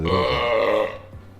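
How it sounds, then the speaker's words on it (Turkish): A single long, loud, close burp from a man rumbles for about a second and then trails off into quiet. "Geğireceğim baba."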